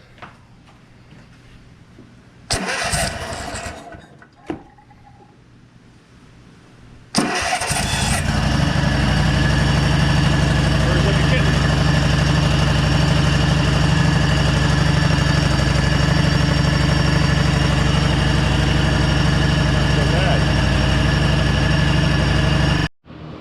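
Cub Cadet RZT-54 zero turn riding mower engine cranking briefly, then catching and settling into a loud, steady close-up idle that runs continuously to the end.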